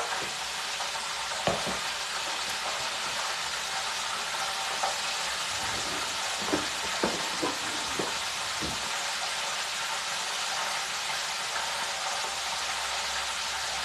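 Chicken frying in oil on a home stove gives a steady, loud broadband sizzle throughout, with a few brief clicks and taps of cooking utensils partway through and no talking.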